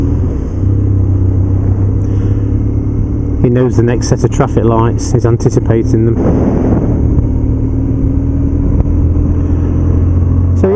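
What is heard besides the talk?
2007 BMW R1200GS motorcycle engine riding in traffic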